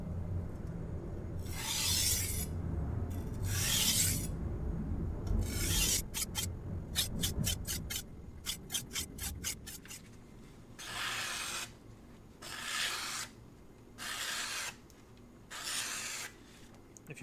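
A knife is drawn edge-first across a King 300 whetstone. Long, gritty scraping strokes give way to a quick run of short rasps, then slower separate swipes, close and moderately loud.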